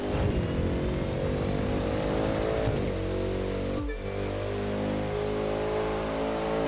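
A Bugatti Centodieci driven in The Crew 2 racing game: a steady, loud engine drone with layered tonal harmonics that holds throughout, a brief dip in pitch midway suggesting a gear shift, and no talking.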